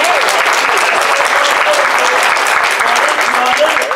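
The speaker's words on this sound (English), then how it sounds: "Guys, give me a round of applause." An audience at a fur convention claps in a steady, loud round of applause, many hands together with scattered voices and a few cheers mixed in.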